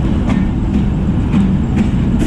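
A Mehr Express train passes through Jand Junction in Pakistan, its carriage rolling with a loud, steady close rumble and faint rhythmic clicks of wheels over rail joints.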